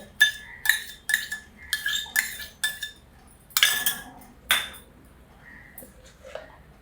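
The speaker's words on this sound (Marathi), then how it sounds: "आता ही मले साय आहे एवढी अर्धी वाटी, याच्यात फेटून घ्यायचं" Cream and ground coconut for coconut ice cream are beaten in a bowl, giving a run of about eight or nine bright, rhythmic metallic clinks close by, then a few softer, scattered taps.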